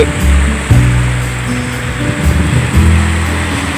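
Sea waves wash onto Hua Hin beach in the morning, a loud, steady rushing surf with a low rumbling undertone and gentle surges, heard close with no voices.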